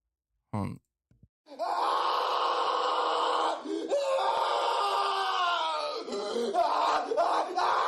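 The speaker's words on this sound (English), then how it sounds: "The Willem scream is too..." A loud, prolonged scream in the style of the Wilhelm scream sound effect, rising into a sustained shrill wail with crowd-like yelling beneath, following a brief sharp cry at the start.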